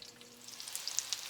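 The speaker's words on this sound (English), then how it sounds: "here they are frying up" Battered cauliflower fritters frying in a pan, a soft steady sizzle with scattered small pops and crackles, fairly faint and close, no voices.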